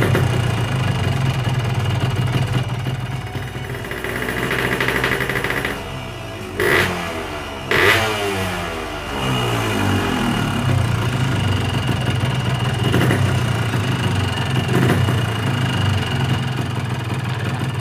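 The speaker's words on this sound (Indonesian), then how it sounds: "Nah, ini suara mesin sebelum kita ganti ring pistonnya." A Yamaha RX King two-stroke motorcycle with worn piston rings idles roughly, close and loud, with an uneven, knocking beat. The engine dips briefly in the middle before settling back into its choppy idle, and no one speaks.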